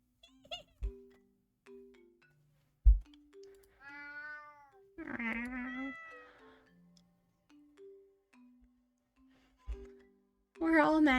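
The Cheshire cat in the puzzle game While True: Learn gives a few drawn-out meows in the middle, set among short electronic chime tones and soft clicks spread through the stretch.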